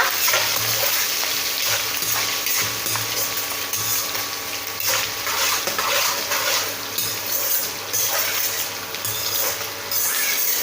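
Chopped ginger and chilies fry in oil in a pan for a bitter gourd curry while being stirred: a continuous, loud, close hissing sizzle that stays steady throughout, with faint scraping under it.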